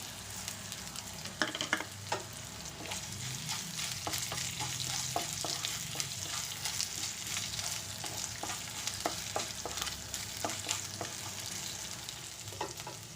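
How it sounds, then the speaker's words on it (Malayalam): Coriander seeds frying in a hot pan with ginger and garlic for tomato chutney, a steady close sizzle with occasional stirring clicks and scrapes throughout. "ഇനി നമുക്ക് മല്ലി ഇട്ട് കൊടുക്കാം."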